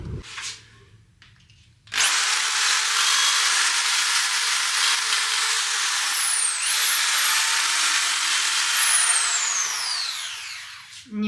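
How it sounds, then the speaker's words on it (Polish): A power drill bores steadily and loudly for about nine seconds, its whine rising and dipping slightly mid-run before winding down, after a brief quiet start with faint background noise. "lubię bardzo tego wiercenia, borowania"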